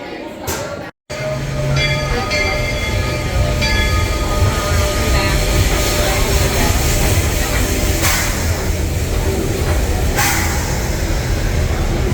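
The Magic Kingdom railroad train, an old-fashioned steam train, gives a loud, continuous rumble of wheels and cars with faint clatter and occasional brief higher squeals, heard up close from aboard.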